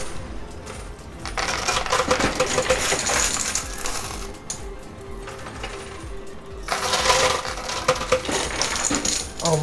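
A high-limit coin pusher arcade machine shoving piles of coins over its edge, with dense metallic clinking and rattling cascades that swell in two louder bursts.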